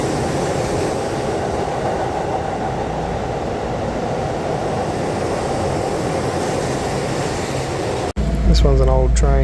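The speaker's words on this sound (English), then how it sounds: "This one's an old train." An old train in Kyoto, Japan, rolling along with a steady rumbling, clattering interior drone and faint air-conditioning hiss; near the end a voice speaks briefly over the noise.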